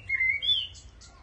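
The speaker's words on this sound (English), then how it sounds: "blackbird's out and about" A blackbird sings from directly overhead in a quiet spot with little road noise, giving a bright rising whistled phrase followed by a couple of softer chirps, clear and close against a still background.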